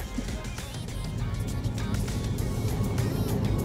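A BYD Seal Design 2024 electric car launches hard from a standstill in sport mode, heard from inside the cabin as a dense rush of road and wind noise that swells steadily louder.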